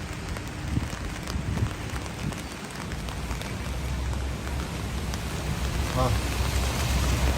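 Steady rain falling on an Osaka street, a constant close hiss of drops spread evenly with no talk.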